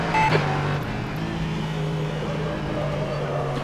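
A steady Norma M30 LMP3 race car engine drone in rFactor 2 at Interlagos hums continuously at a fairly even pitch, moderately loud, with a faint brief chirp near the start.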